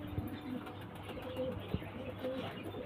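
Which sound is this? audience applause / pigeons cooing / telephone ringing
pigeons cooing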